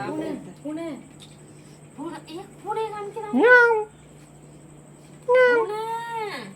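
A domestic cat meows repeatedly at close range, a series of rising and falling plaintive cries with short pauses between them, some longer and louder, over a low steady hum.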